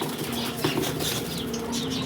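Pigeons burst into flight, a rapid flurry of flapping wings close by over a dense, noisy outdoor background.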